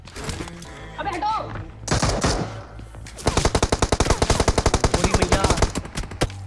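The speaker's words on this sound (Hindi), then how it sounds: "इतने में सामने से कुछ फायरिंग साउंड आ रहा होता है।" Gunfire in a battle-royale video game: scattered single shots at first, then a long rapid burst of automatic fire, loud and close, with speech at times.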